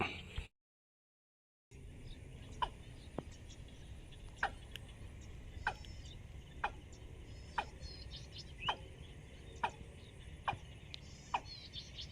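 Repeated sharp bird calls ring out at regular intervals over a steady outdoor hum, a decoy call played in the open for hunting birds and ducks.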